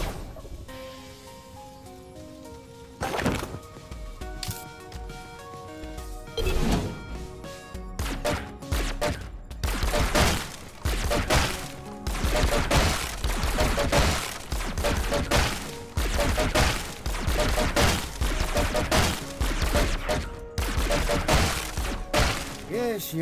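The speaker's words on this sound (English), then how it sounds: "Break the targets ahead of you using a laser pistol." Rapid laser pistol shots shatter targets one after another in the PC game MicroWorks, a long run of sharp crashing bursts following a quieter tonal lead-in.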